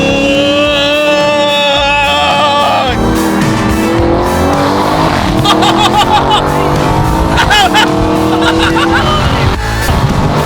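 A supercar's engine revs hard and accelerates loudly up close, its rising and falling tone dominating with brief tire squeal, while people talk and shout over it.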